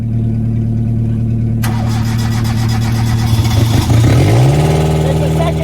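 A second engine in a twin-engine, twin-driveline all-wheel-drive Hyundai Getz cranks and fires up while the first engine already idles loudly and steadily underneath. The added engine catches about two seconds in, stumbles, then settles into a rising, steady idle layered over the first.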